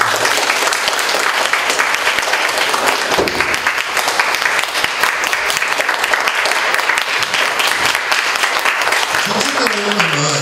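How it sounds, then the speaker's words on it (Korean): Loud, sustained applause fills a hall as a citizens' school audience welcomes a National Assembly member to a lecture. The dense clapping runs unbroken from start to finish, with crowd voices mixed in underneath. "큰 박수로 부탁드립니다."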